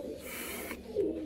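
Pigeons in a cage loft give a brief, soft, throaty coo close by over a quiet background hiss.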